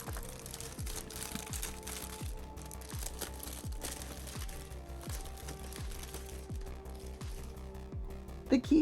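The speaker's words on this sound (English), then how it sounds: "The keyboard comes in its own plastic covering, which makes tons of fun crinkly sounds." A mechanical gaming keyboard, the AOC GK500, unwrapped from its plastic covering, giving continuous crinkling and rustling under steady background music with a repeating rhythmic pulse.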